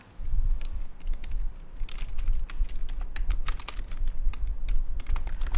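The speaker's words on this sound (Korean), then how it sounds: "여기 아래쪽에 키보드에서 컨트롤 키 누른 상태에서" A computer keyboard is typed on during spreadsheet work in Excel. It gives a steady run of quick, light key clicks and taps, close up over a low background rumble.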